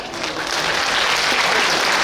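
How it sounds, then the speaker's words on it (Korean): Audience applause at the opening of a book concert in Suncheon, a dense, steady clapping from a crowd filling the hall at even loudness throughout, with no voices over it. "여러분의 힘찬 박수와 함께 시작하겠습니다"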